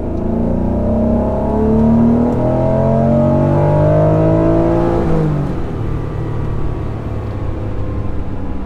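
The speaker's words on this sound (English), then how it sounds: "listen for two different RPM ramps as if VTEC is kicking in twice" A high-mileage Honda NSX engine revs hard and climbs steadily in pitch, the tone shifting sharply partway through as VTEC engages and the engine pulls higher, loud and close.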